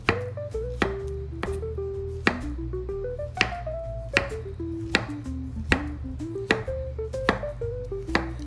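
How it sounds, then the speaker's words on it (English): A knife slices through bananas against a cutting board in a string of crisp, evenly spaced chops, close and clear, over soft background music. "So I'm gonna cut up several bananas just like this."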